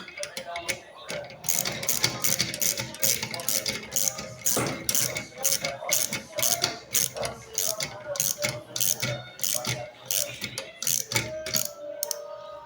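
Ratchet tightening on a motor being reassembled during restoration, a steady run of quick metallic clicks and pawl rattles with brief pauses, close and fairly loud, with no talk.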